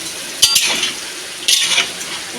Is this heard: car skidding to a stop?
no